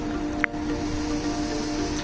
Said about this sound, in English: The car is been idling for a while, so the fan is on, and that's why you can hear that noise